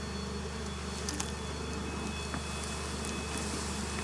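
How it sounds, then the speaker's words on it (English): Bees swarm close at an open beehive, a faint, continuous droning buzz with occasional sharper passes of individual bees near the listener. "Do you want me to give these bees their squirt that they're gathering?"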